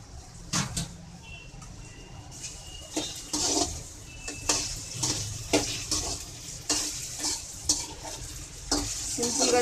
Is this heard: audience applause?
no